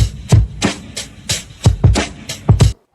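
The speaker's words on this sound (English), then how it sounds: "So the drum sounds like this." Sampled drum beat with punchy kicks and snappy hits in a steady rhythm, about eight strong strikes over a few seconds, loud and close with no voice, ending abruptly.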